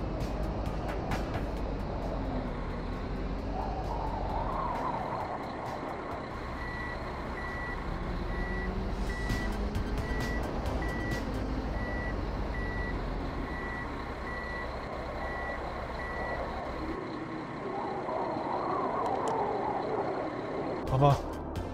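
A snow-clearing vehicle in an Alpine ski area keeps beeping steadily as it reverses, over a constant low engine rumble, with a person talking.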